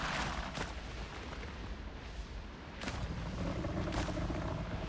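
Gunfire aimed at a plague croc in the survival game Windrose sounds as several loud, sharp booming shots, spaced irregularly, each with a rumbling tail over a dense noisy background.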